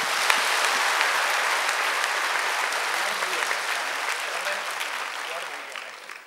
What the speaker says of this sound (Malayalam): ഒരു തീപ്പൊരു കൈയടിയോടെ കർത്താവിന് കൊടുക്കാം.